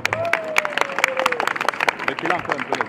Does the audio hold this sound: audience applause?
yes